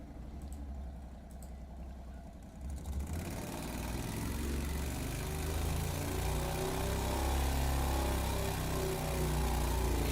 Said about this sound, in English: No, that's an engine to annoy your neighbours with.